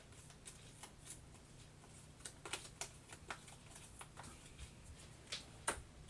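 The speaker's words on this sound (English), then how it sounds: "let's draw these, shuffle these last 3 cards" Kingdom Death Monster board game cards being shuffled by hand at a table, a quiet run of soft papery riffles and sharper snaps with a few brisk flicks, close and alone without talk.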